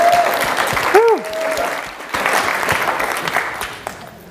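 Applause rises from an audience at a trucking industry association's annual general meeting, a steady broadband patter lasting the whole stretch, with a voice briefly speaking over it near the start.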